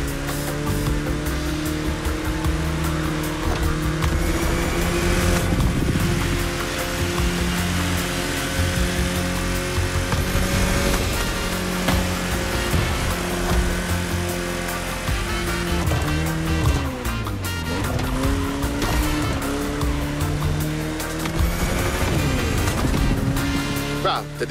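A car cruises in The Crew Motorfest on a scenic Hawaii route, its engine drone steady and close throughout, rising and dipping with gear and speed changes, with continuous game voices talking over it.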